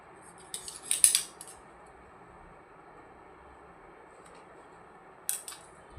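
Scissors snipping wire to length, two short crisp bursts of metallic cutting clicks heard close, one cluster near the start and another brief one near the end, over a quiet steady background.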